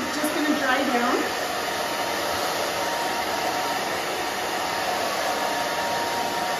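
A hair dryer blows steadily and close while drying a woman's short pixie cut, a continuous whooshing roar that holds at a constant level throughout with no talk.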